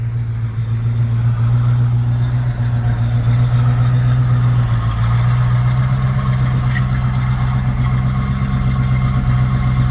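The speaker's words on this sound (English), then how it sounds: "Got a nice burble to it." A 1970 Ford Mustang Mach 1's 351 V8 idles steadily close by, a loud, even low burble with no talking over it.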